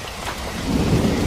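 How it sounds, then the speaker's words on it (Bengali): Heavy rain pours down in a cartoon night scene over a paddy field, a loud dense hiss with a deep rolling thunder rumble swelling underneath. "অন্ধকারে চারিদিক শুধু বৃষ্টি পড়ার আওয়াজ"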